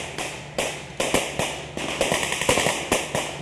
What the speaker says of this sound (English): Belt-fed machine gun.